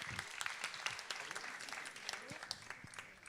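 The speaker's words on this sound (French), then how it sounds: "On peut l'applaudir." An audience at a media awards ceremony claps steadily through the whole stretch, dense and even applause heard from within the crowd, with a voice speaking faintly underneath.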